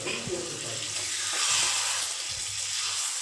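Boiled peas and potatoes fry in hot oil for ghugni, a strong steady sizzle broken by a few stirring scrapes and thumps of the spoon.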